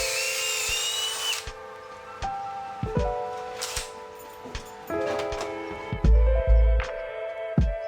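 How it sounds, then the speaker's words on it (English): A power drill whines in short bursts, drilling through a concrete wall, stopping and restarting several times at close range, with thuds and clatter between runs. "I'm going to head down and try and drill through that second"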